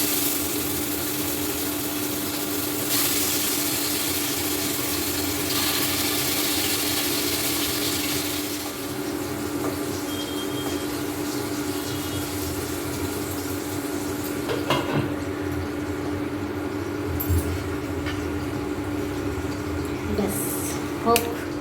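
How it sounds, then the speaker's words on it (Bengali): Fish frying in hot oil in a home kitchen pan, a steady broadband sizzle that runs throughout with a brief clatter near the middle, close and fairly loud. "মাছটা ভাজা হোক, তারপরে আলু ভাজতে হবে।"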